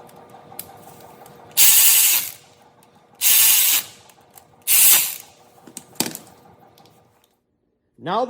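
A ratchet tightens bolts while an Audi V6 timing belt goes in, sounding as three loud bursts of rapid clicking separated by quiet pauses, with a few small metallic taps and a final short burst at the end.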